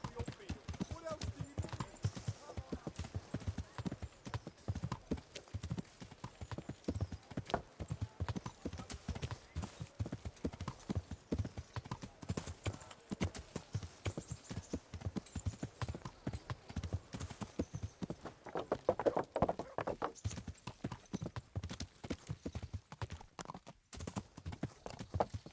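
Horse hooves clip-clop in a steady, rapid rhythm during a ride in the video game Kingdom Come Deliverance, continuous close footfalls with a brief whinny and voices talking over them.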